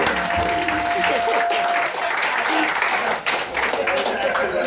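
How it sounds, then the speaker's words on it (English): Audience applause at a stand-up comedy roast battle: sustained, dense clapping from a crowd fills the whole stretch, loud and steady with a brief dip near the end. "Applause break, bro"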